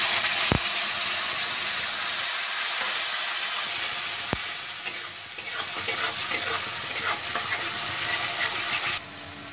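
Onions and spices fry in a pan for a potato and eggplant dish, a loud continuous sizzle and hiss with two sharp utensil taps and busy stirring scrapes throughout, no one speaking.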